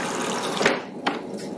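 Water runs steadily from a tap into a cup in a kitchen, a continuous close rushing stream with two brief splashing surges partway through.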